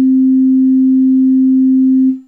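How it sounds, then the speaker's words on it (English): A pure, steady sine tone from a Yamaha PSS-480 FM synthesizer holds at one pitch for about two seconds, then fades out smoothly. "Now the sine wave again."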